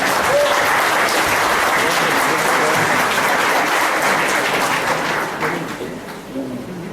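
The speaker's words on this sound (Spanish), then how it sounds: "Un aplauso por favor para el maestro Diego Ávila." An audience applauds a guest lecturer at a panel discussion on the epistemology of violence, with a steady, dense clapping that holds throughout and eases slightly near the end, with a few faint voices underneath.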